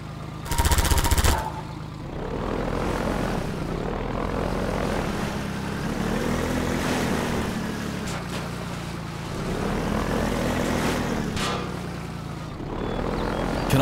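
A helicopter flies in Half-Life 2, its steady engine drone and rotor throb running through the scene, swelling and fading as it passes, with sharp bursts of game noise at the start and near the end.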